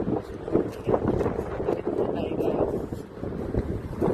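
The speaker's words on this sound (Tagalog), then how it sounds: "Sobrang hangin." Strong gusts buffet the microphone in rough, uneven bursts along a street near a school in Perho, Finland, and a voice is faintly heard under the roar.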